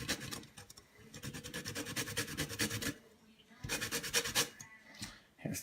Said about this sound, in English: I'm going to zest 1 lemon into this mason jar